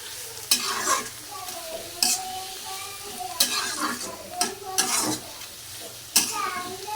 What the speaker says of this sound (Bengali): এই দেখো এখন এটা ভালো করে ভেজে নিব